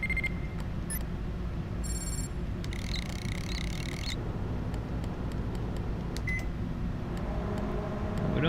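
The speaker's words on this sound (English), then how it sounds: "Let's see what computer bleeps sounds like. Yeah, that's computer bleeps, alright." Computer bleep sound effects in a video game: short high electronic beeps and a brief buzzing tone burst sound intermittently over a steady low background rumble, with no voices.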